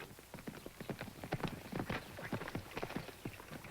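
Horse hooves clip-clop in a steady walking rhythm on a TV Western soundtrack, a fine-looking stallion approaching at moderate distance, the hoofbeats fairly loud and continuous with no talk over them.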